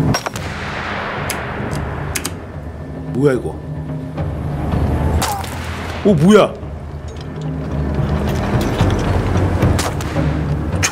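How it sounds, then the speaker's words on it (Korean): Gunfire and booms echo through a war-torn city in the survival video game This War of Mine, with scattered shots and a couple of louder bursts beneath steady game ambience while a player talks in an excited voice. "총소리가 막 들려."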